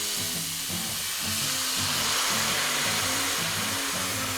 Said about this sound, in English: Next we've got some white wine. We're just going to deglaze